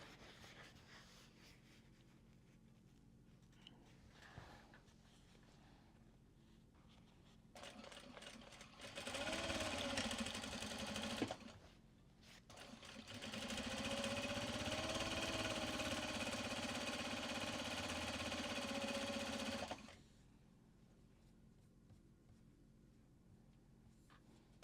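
A sewing machine stitching a facing, two sustained motor runs with a steady hum, the second longer, separated by a short pause and surrounded by quiet room noise.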